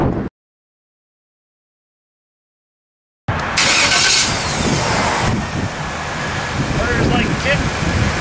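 Chevrolet Suburban with a small block Chevy 350 V8 cranks and fires up after a silent gap, then settles into a loud, rough idle with some wind noise.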